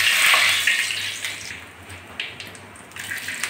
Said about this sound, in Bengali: এর ভিতরে এখন ফোড়ন দিয়ে দিচ্ছি লবঙ্গ, দারচিনি, এলাচ